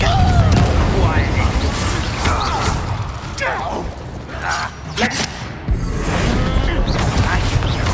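A Confringo fire spell in the Hogwarts Legacy video game erupts in loud, crackling blasts. Rumbling bursts and mechanical clatter fill the whole stretch and ebb briefly near the middle before surging again.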